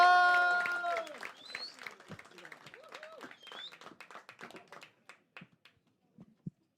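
Comedy club audience applauding and cheering as a comic is brought on stage, a burst of clapping and whoops that thins into scattered claps, with a voice over the start.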